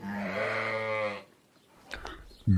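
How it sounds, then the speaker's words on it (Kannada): Cartoon sheep bleat in one long, loud, wavering cry, followed by a short pause, faint rustling and a brief thump at the end. "ಆ ಬೀರಪ್ಪ ಒಂದು 50 ಕುರಿಗಳನ್ನ ಹೊಡ್ಕೊಂಡು ಆ ಸಾಹುಕಾರ ಮುಂದನೇ ಬರ್ತಾನೆ"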